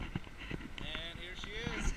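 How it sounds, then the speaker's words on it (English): Outdoors beside a truck, gusty wind buffets the microphone with a continuous low rumble and intermittent bursts. Someone speaks over the noise throughout. "sorry, the wind's blowing, so if you can hear that"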